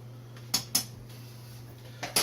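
Food pouch contents are whisked in a pot, heard as a few sharp metallic clinks and scrapes of the whisk against the pot, close and clear over a low background hum.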